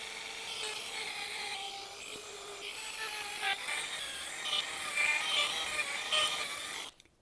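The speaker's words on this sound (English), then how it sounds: "with this first disc, we're just trying to get out any of the deeper scratches" A rotary disc sanding a cloudy car headlight lens, a steady hissing, scratchy whir held under even pressure, quiet and close, cutting off abruptly at the end.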